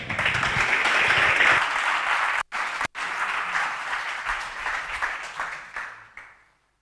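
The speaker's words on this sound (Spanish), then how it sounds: "Un aplauso para Albert." An audience at a talk bursts into sustained applause: thick, even clapping from many hands that holds steady, dips briefly twice, then fades away to silence at the end.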